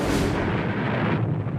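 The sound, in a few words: loudspeaker gunfire and explosion sounds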